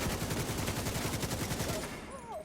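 An assault rifle in the shooter game The Division 2 fires a rapid, evenly spaced automatic burst at close range for nearly two seconds, then falls silent as faint game tones linger.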